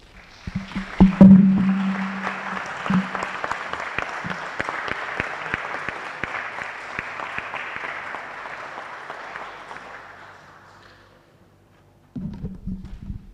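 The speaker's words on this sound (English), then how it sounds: "I suggest a last applause to our 6 speakers" Symposium audience giving a final round of applause to six speakers at Palazzo Thiene Bonin Longare, sustained clapping for about ten seconds that gradually fades, followed by a brief low hum.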